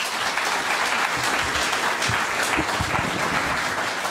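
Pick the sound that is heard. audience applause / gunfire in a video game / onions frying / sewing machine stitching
audience applause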